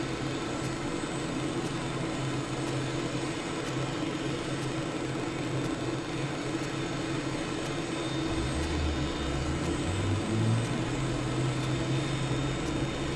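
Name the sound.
aircraft engine climbing in Microsoft Flight Simulator video game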